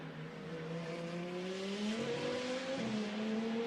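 GT2 race cars at Hockenheim scream past with rising, shifting engine tones as they accelerate through the gears, a sustained loud roar with a gear change near the end, heard from trackside at moderate distance.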